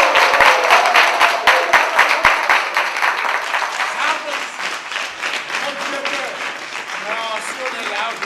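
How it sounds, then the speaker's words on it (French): Audience applause at a comedy stage show by a theatre company, a dense, steady clatter of many hands, crisp claps early, then continuing under voices and laughter that rise over it. "Applaudissez. Applaudissez."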